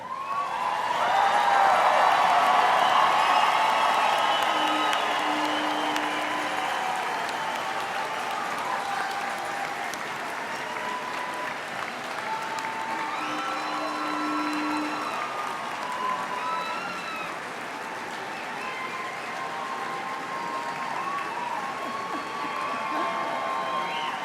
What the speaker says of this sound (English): please stand and accept applause from those who